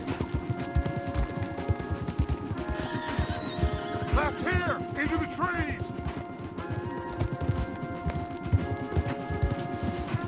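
Horses in Red Dead Redemption 2 galloping with constant heavy hoofbeats, while several loud neighs and whinnies ring out in the middle, close and continuous.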